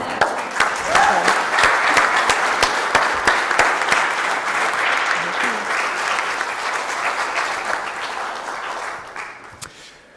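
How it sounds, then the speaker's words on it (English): Sustained applause from a church congregation following a sermon, dense steady clapping for about ten seconds that swells early and then gradually fades out at the end. "So I know it's not really our custom to applaud after a sermon,"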